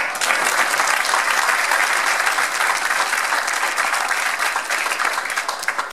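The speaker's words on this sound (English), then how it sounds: "Let's give each other a round of applause." Applause from a community gathering honoring the most generous workplaces of the Roanoke Valley, a loud, dense, sustained wash of many hands clapping for several seconds, then tapering at the end with no talk.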